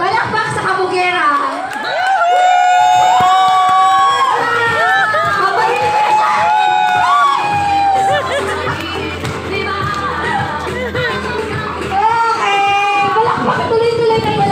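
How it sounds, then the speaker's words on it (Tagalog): A celebration crowd cheers and claps for the celebrant, with loud excited whoops and overlapping voices throughout, mixed with chatter and calling out. "Tuloy-tuloy na palakpak."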